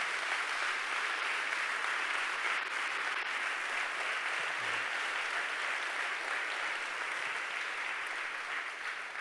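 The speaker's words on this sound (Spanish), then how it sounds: "Dale un fuerte aplauso a Jesús." A church congregation applauds in praise during a Sunday service, steady dense clapping from many people filling the room, loud and sustained throughout with no pause.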